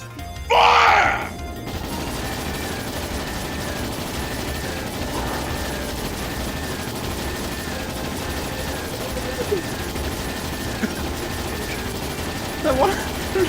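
Ships in the video game Trails in the Sky SC open fire with a loud, sharp volley of guns near the start, followed by low rumbling game ambience and a few faint later impacts.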